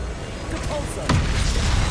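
Depulso force spell impact in the Hogwarts Legacy video game: a single sharp, heavy thump lands midway and is followed by a lingering low rumble.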